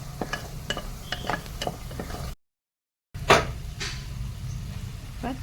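Ginger garlic paste sautéing in ghee and oil for mutton biryani, a soft steady sizzle with scraping stirs and utensil knocks close by, broken by a short silent gap.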